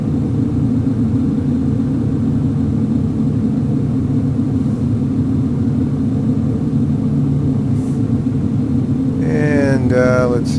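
Twin engines of a Cessna 310 in the X-Plane 11 flight simulator, a loud, steady droning rumble throughout, with a voice speaking briefly near the end.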